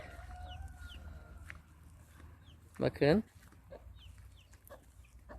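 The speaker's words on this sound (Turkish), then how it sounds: "Civcivlerin yavruları yok mu ya?" Chickens clucking in a village yard, a short loud burst of hen calls in the middle over quiet outdoor background, with a person speaking briefly nearby.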